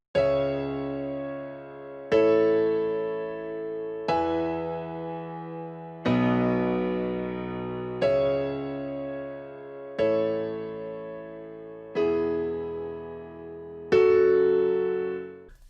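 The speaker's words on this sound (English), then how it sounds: "I just loaded them into a piano," Eight simple, plain piano chords on FL Keys in a tropical house progression, each struck cleanly about every two seconds and left to ring and decay before the next, with no voices.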